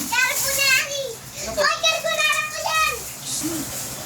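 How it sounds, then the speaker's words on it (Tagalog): A grandchild plays noisily nearby, with high, excited child vocalizing and chatter rising and falling continuously over a home kitchen background. "Maingay yung apo namin guys."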